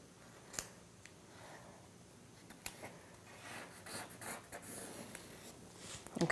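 Scissors snip through muslin fabric along a drawn line for a 1950s halter dress, with quiet, close crisp cuts and soft fabric rustles spaced irregularly, ending in a slightly louder burst of cutting.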